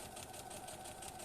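A sewing machine stitching a zipper tray pouch, a rapid steady mechanical whir with even pulsing that stays close and continuous throughout.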